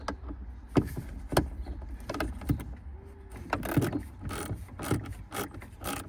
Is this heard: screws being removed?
yes